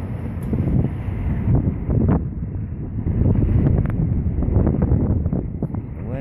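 Wind blowing hard outdoors and buffeting the microphone in a constant low rumble, with a voice talking intermittently through it.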